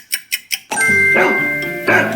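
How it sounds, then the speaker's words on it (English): Three quick ticks, then a dog barks loudly and close, a few rough harmonic barks running together. "It's a dog."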